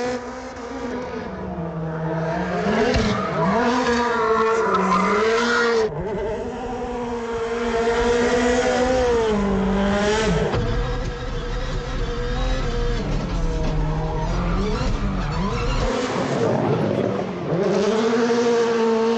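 An 862 hp Subaru rally car built for Gymkhana driving in Florida, its engine loud and close, revving and droning in rising and falling sweeps with tyre noise, continuous for nearly twenty seconds.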